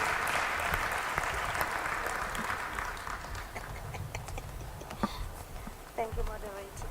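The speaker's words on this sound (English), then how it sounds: "A round of applause, please, ladies and gentlemen." Audience applause at an investment forum, loud and dense at first, then gradually thinning into scattered claps, with some crowd noise and a few voices near the end.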